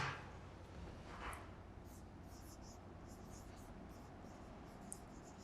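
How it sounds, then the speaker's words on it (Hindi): Marker or chalk scratching out a maths question on a classroom board, a string of short squeaky strokes and taps, faint against room hiss. "चलिए क्वेश्चन लिखता हूं यहां पर"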